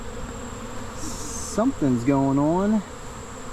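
Honeybees buzz steadily around a hive colony on a farm, a close droning hum. A brief spoken phrase and a few rising vocal sounds rise briefly over it.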